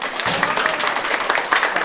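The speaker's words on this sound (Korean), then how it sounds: "자, 박수 한번 주세요" A small group at a children's one-on-one soccer contest claps steadily for a couple of seconds, a lively patter of hands close by.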